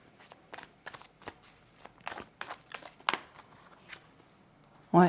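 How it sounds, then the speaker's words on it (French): Tarot cards laid one by one onto other cards on a table, a series of soft slaps and light papery rustles, with a louder, fuller card placement at the end; speech is faint or absent. "On recouvre déjà le 4 de coupe."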